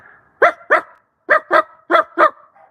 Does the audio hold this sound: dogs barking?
yes